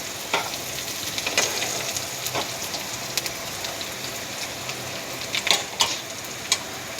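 Onions frying in oil in a home kitchen while a rui fish curry is prepared: a continuous, rain-like sizzle close by, with scattered louder pops and spatters and no talk.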